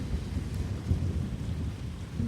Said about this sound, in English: It was thunder.